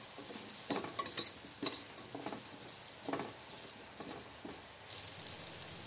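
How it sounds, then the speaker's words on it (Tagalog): Sliced eggplant sautéing in a pan for a mung bean and pork dish, with a steady close sizzle broken by irregular scrapes and stirring clatters, no voices. "Maglagay na rin tayo ng hiniwang talong. Ayan, gisayin lang natin yan."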